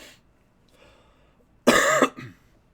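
A burst of harsh coughing, two or three quick hacks close to the mic, then quiet with faint background noise.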